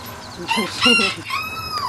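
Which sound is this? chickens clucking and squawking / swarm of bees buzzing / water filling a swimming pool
chickens clucking and squawking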